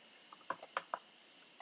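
A handful of separate keystrokes on a computer keyboard while Python code is entered, sounding as sparse, close, quiet clicks spread over a second or so with no talk.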